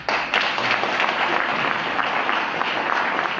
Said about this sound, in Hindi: तो एक बार मेरे लिए और सिस्टम में तालियां